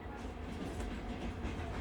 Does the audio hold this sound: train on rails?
yes